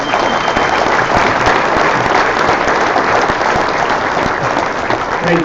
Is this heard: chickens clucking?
no